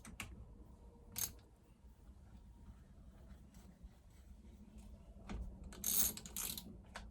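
A ratchet clicks in quiet bursts while bolts are tightened on a reassembled Jonsereds 920 chainsaw, faint mechanical ticking with a louder cluster of clicks toward the end.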